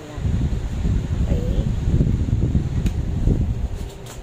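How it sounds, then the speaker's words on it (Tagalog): An Akari 12-inch rechargeable DC LED oscillating electric fan runs with a steady, close whooshing blow of moving air that holds level throughout. "So, ito yung sa electric fan. Ayan. O, diba? The typical electric fan."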